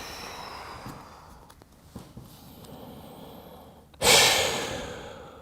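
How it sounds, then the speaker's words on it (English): Deep, slow breaths during a cool-down stretch at the end of a weight-lifting workout, several soft close inhales and exhales, then one loud forceful exhale near the end. "You hear me breathing deeply because I'm trying to slow my body down, calm the body down."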